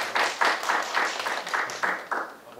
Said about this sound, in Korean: 큰 박수로 보내주십시오